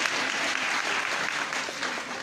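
Steady applause from an audience fills the whole stretch, a dense, even patter of many hands clapping at constant loudness with no voices standing out.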